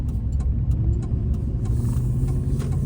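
An old truck engine running rough with an uneven, sputtering low rumble, steady and close, heard alone without voices.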